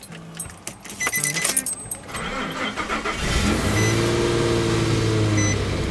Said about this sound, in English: turn the key, put it all the way, and it's trying to start or just clicking